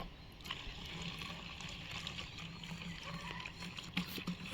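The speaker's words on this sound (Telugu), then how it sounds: "ఫుల్గా అయితే వాటర్ నింపాలి" A continuous gurgling, rushing pour of water filling a bottle, steady and close, with small splashes and a brief knock near the end.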